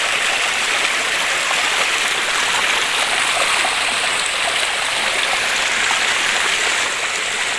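Water rushing through a channel cut into a paddy field, a dense, steady close-up gush and splash that stays loud and unbroken from start to finish.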